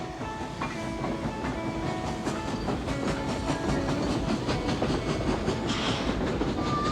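A small farm train rumbles along its rails with a steady clickety-clack and faint hiss, continuous and fairly close, with a brief high tone near the end.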